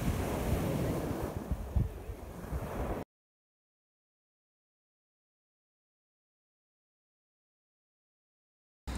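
Sea waves wash against the shore while standing in the water in the Pyrenees, with heavy wind buffeting the microphone for a few seconds, then sudden silence.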